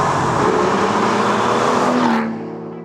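An Aston Martin V12 Vantage S engine roars loudly under way, a dense sustained growl with a slowly shifting tone that cuts off and fades near the end, with no voices.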